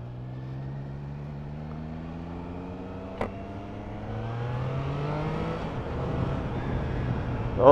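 A 2023 Triumph Trident 660 on its stock underbelly exhaust idles close by, then its engine revs climb steadily and grow louder toward the end.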